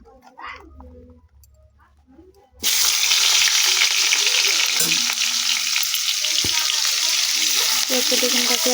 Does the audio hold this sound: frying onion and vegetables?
yes